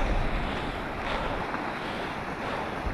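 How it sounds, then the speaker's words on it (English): Steady rushing water, like a stream or falls beside a steep running trail, fills the whole clip with a loud, continuous broadband roar and some wind buffeting on the microphone. "I don't know if you guys can hear me over the water"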